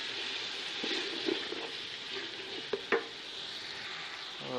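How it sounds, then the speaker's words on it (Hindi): Whole green chilies being stirred into mutton pulao in a pot, a soft steady sizzle with scraping stir strokes and a couple of sharper clinks of the spoon, close and moderately quiet, no talking. "अब इसको अच्छी तरह मिक्स कर लेंगे"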